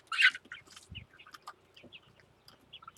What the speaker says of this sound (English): Chickens are getting in the way.